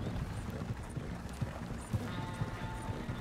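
Horse hooves clip-clop in a steady rhythmic walking gait in Red Dead Redemption II online, about two beats per second at moderate level, with no clear speech over them.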